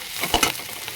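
Onions sautéing in a pan for an adai recipe, a brief loud sizzle with a quick stirring scrape in the middle, close and with no voices.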